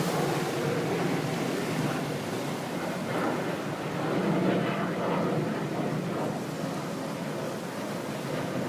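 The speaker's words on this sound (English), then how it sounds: "Oh, here comes a jet." A JetBlue jet airliner passes overhead near St. Martin, a steady broad rumbling roar that swells slightly midway and stays fairly distant, with wind-like noise and no talking.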